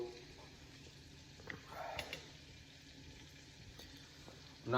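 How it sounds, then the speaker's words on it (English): Butter sizzles softly in a pan during chocolate chip cookie baking, a faint steady crackle with a few light stirring clinks and scrapes. "I'm not sure if you can hear it from here, but it's sizzling."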